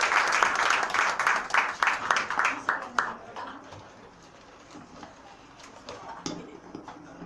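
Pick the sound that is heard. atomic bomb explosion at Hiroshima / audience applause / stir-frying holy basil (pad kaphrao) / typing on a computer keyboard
audience applause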